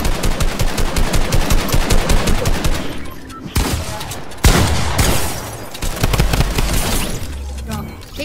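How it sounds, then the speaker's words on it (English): Drum gun fire in the Fortnite battle royale game sounds as rapid, loud bursts of automatic shots that pause briefly and then resume, with players talking over the gunfire. "Take the drum gun to spam."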